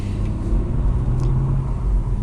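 A BMW M140i is driven along a two-lane B road, giving a constant low engine and road rumble with no breaks or revving peaks.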